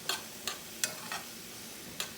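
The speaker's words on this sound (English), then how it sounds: "we're going to just stir it and let that kind of stir fry a little bit and let it cook down" Garlic stir-fries in a pan for jambalaya, with a low sizzle broken by five or six short scraping strokes of a utensil at an uneven pace, close and fairly quiet.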